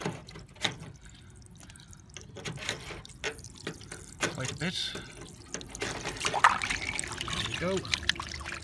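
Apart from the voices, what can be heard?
water draining from Indesit washing machine lint filter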